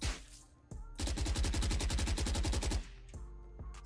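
An automatic AR rifle in Valorant fires a rapid, evenly spaced stream of about twenty loud shots, near and alone, before a few trailing clicks.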